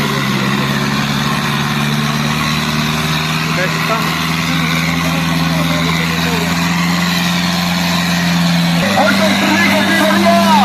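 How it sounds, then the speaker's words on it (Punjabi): Tractor engine straining under load while pulling a loaded trolley in a village trolley-pulling contest, a loud sustained low drone that shifts pitch near the end, with people talking over it. "ਇੱਥੇ ਆ ਕੇ ਦਬਦਾ ਟਰੈਕਟਰ ਮੋੜ ਤੇ"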